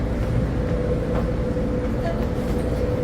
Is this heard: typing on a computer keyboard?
no